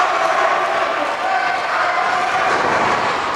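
A raucous wrestling crowd at an AMW Showdown heavyweight championship event roars in a steady, dense wash of cheering and shouting that holds loud and unbroken throughout.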